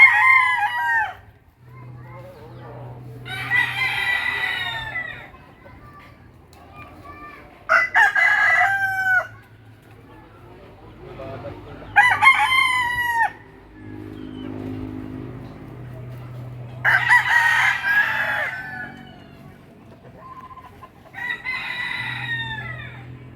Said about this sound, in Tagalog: Kita yung mga manok dito guys.